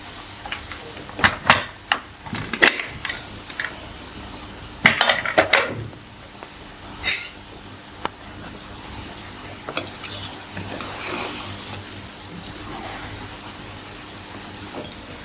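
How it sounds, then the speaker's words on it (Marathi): A spoon stirs cooked vegetable pulao rice inside an opened pressure cooker, giving scattered metallic clinks and scrapes, louder in the first few seconds and then softer, steady stirring. "एकदा कुकरची वाफ गेली की सगळा कुकर मधला भात असा मिक्स करायचा"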